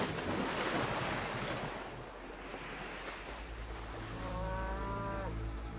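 Cattle moo in a low drawn-out call while surf washes steadily against the shore, the waves dominating the background and a faint higher tone rising near the end.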